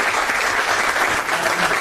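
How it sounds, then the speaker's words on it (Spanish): An audience at a conference applauds the mayor in a steady, dense burst of clapping, close and loud, with no voices. "le damos un fuerte aplauso al intendente"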